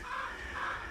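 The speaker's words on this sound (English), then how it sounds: "Look at these chickens." Chickens clucking softly while resting in the shade under maple trees, a short, steady run of mid-pitched fowl calls close by with no talking.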